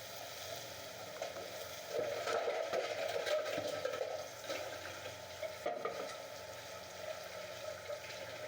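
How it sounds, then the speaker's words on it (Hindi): Four tablespoons of chopped garlic sizzle in four tablespoons of oil in a pan while being stir-fried, with a soft steady frying hiss and occasional scraping from the stirring, quiet and close, with no talking. "अब लहसुन को हल्का सा स्टर फ्राई कर लेंगे।"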